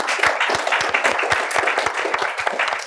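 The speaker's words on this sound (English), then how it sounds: "Round of applause for the presenters, please" Loud, sustained applause from an audience for presenters at a three-minute thesis event on sustainability, many hands clapping steadily with sharp individual claps close by.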